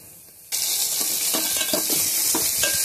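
Lentils with powdered spices hit a hot pan and burst into a loud, steady sizzle after a brief quiet moment, with occasional scraping stirs breaking through the constant frying hiss.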